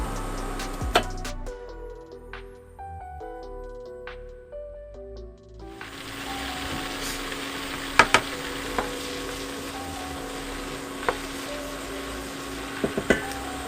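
Onion hitting a hot pan with butter and turmeric: a quiet stretch with faint clinks, then a steady broadband sizzle takes over and holds, dotted with small pops and crackles.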